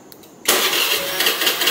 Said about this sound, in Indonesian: Si A juga menyalakan mesin mobilnya